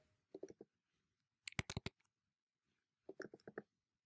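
A command being typed on a computer keyboard, three short bursts of quick, faint key clicks separated by pauses in a quiet room.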